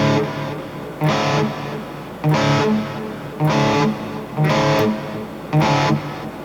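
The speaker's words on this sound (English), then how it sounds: "Bring in just a little bit of that reverb." An electric guitar riff with distortion and a touch of reverb plays as loud, rhythmic chugging phrases, about five repeated bursts around a second apart, with no one talking.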